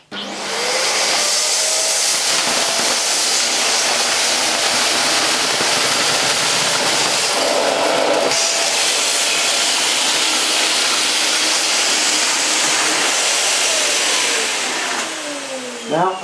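A Vax Air Revolve Pet vacuum cleaner with its power head brush turned off sucks up flour and oats from a lino floor, a loud steady whooshing roar running continuously for about fifteen seconds with slight shifts in pitch.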